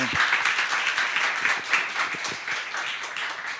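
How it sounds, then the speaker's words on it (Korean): A church congregation applauds together in praise, a full, rolling wash of clapping that swells and eases slightly, with a few voices mixed in beneath it. "하나님께 영광 박수"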